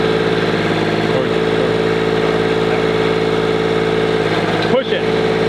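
A tractor engine idles steadily at close range, a constant low mechanical drone with a brief dip near the end as people talk over it.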